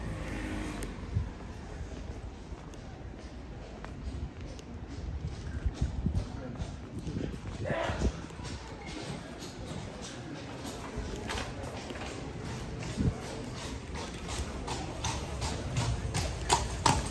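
Horse hooves clip-clop steadily on a street in Bruges, Belgium, a continuous rhythmic clatter of moderate loudness with ambient street noise and occasional voices in the background.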